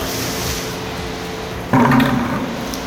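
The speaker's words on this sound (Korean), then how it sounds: "이렇게 코팅이 되어 있고 발수가 되어 있어야 흔히 말해 워터 드라잉 이 위에 이런 물들을 뿌려 볼게요." Water sprayed from a hose onto a coated, water-repellent car body during a self-service wash, a sudden hissing spray bursting in over steady background wash-bay noise.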